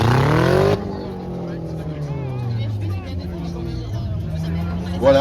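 Stock cars race on a track at Bertrix, engines rising in pitch as one roars close by and then droning on as cars circle, with a commentator talking over the noise.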